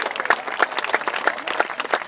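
Applause for a fourth-grade cover art winner at a school hoolaulea celebration, a small crowd clapping in a brisk, uneven patter with distinct individual claps standing out, close and moderately loud.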